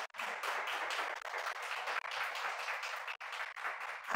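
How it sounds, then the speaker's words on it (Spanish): Audience at a press conference applauding, a dense burst of close hand clapping that holds steady for a few seconds with small dips, no talking. "para el cual pido pues un fuerte aplauso."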